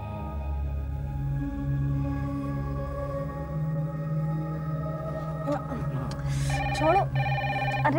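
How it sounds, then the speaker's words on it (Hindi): A telephone rings in a domestic drama scene, its tonal electronic ring entering in the later part over sustained background music and low voices. "अरे फोन आ रहा है देखो"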